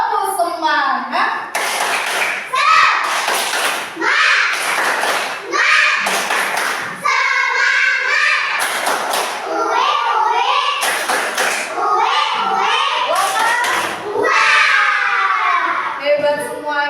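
Children in a classroom doing a rhythmic spirit clap, bursts of patterned clapping mixed with chanting young voices, loud and close throughout.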